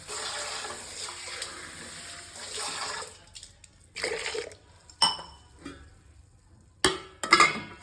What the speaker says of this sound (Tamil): உடச்ச இந்த சுண்டைக்காயில் தண்ணி ஊற்றி லைட்டாக ஒரு அலச அலசி எடுத்துக்கலாம்